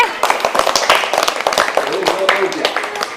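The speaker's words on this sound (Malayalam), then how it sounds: "എല്ലാരും ഒരു ക്ലാപ്പ് ചെയ്തേ" Children clapping in a primary school classroom, a quick burst of uneven hand claps mixed with voices and chatter, close and lively for a few seconds.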